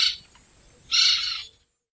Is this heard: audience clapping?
no